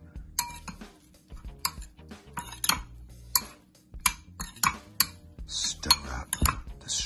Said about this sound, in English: Stir up the strawberry